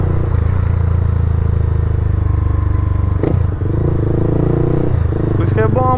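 A Honda Twister motorcycle roars loudly on a highway in a steady, droning run, with a brief clatter and a short dip partway through.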